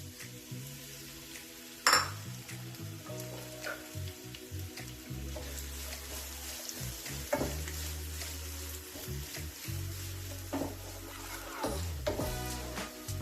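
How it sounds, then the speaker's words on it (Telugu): Onion pieces fry in a pan for an egg lababdar, sizzling steadily at close range while a spoon scrapes and stirs in scattered strokes, with one sharp clatter early on and a low hum underneath. "ఇలా ఫ్రై అయిన తర్వాత దీంట్లో ఉల్లిపాయ ముక్కలు కూడా వేసుకొని ఫ్రై చేసుకోవాలి"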